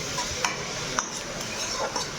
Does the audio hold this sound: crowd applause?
no